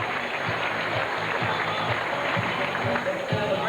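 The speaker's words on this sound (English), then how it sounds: "How about a nice round of applause for our singing and dancing Dolphins?" Spectators at a 1989 Sea-Arama dolphin show give a sustained round of clapping, moderately loud and even, with a voice faintly mixed in.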